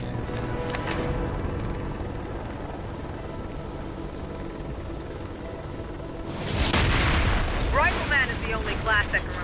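In the video game Warface, a thrown grenade explodes with a loud, sudden boom partway through, following a stretch of quieter game ambience, with crackling debris and a spoken voice as it fades.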